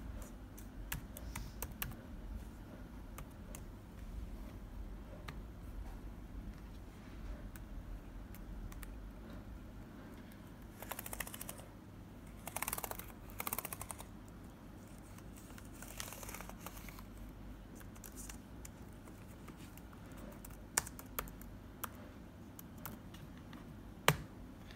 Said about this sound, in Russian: Напоследок давайте проверим с вами клавиатуру.